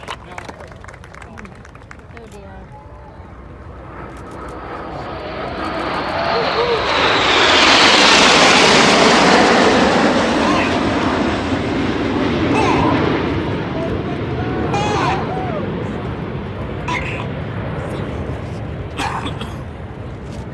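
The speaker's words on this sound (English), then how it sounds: "as the aircraft break in numerical order, they'll stack up downwind before turning final" RAF Red Arrows jets pass over an air show at MCAS Miramar, a loud engine roar swelling to a peak mid-clip then slowly fading, with a public-address announcer talking and crowd noise beneath.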